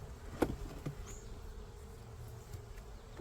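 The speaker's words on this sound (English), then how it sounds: "there are definitely bees in between the frames here" Honey bees buzz between the frames of a weak hive during an inspection, a soft steady drone with a few louder knocks and passing buzzes.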